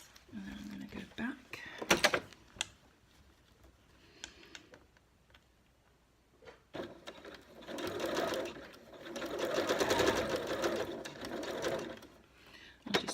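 A sewing machine stitches a regular zip onto the back of a cushion, running in a steady close whirring burst after a few short clicks and pauses, with someone talking quietly at the start.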